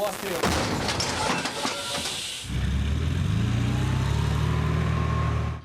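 A single heavy artillery cannon blast booms out, followed by a long rumbling, hissing roar that lingers and slowly fades.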